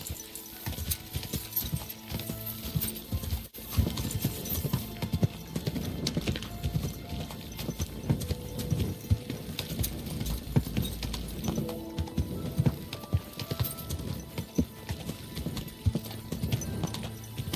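Horse hooves clip-clop steadily through the medieval game Kingdom Come Deliverance 2, a continuous close rhythm of hoofbeats layered with dense background game sound.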